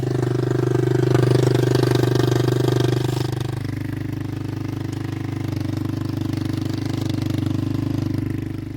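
600cc motorcycle engine running steadily up close, a loud continuous drone that shifts to a slightly different pitch partway through, with no voices.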